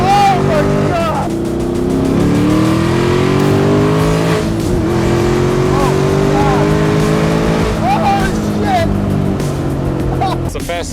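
A modified Mazda Miata accelerates hard with the engine roaring and climbing through the gears, heard loud and close from inside the car, with excited voices shouting over the engine noise at the Tail of the Dragon.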